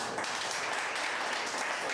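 A church congregation claps together during a sermon, a continuous, moderately faint rush of many hands with no clear individual claps standing out.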